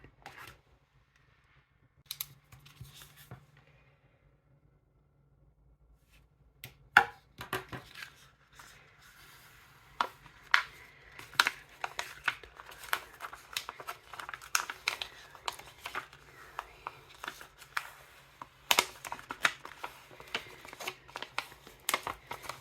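A cutting machine cuts puff heat transfer vinyl for a butterfly T-shirt. After a quiet start it sets up a rapid, irregular run of sharp clicks and crisp ticks over a faint motor hum, close and fairly quiet.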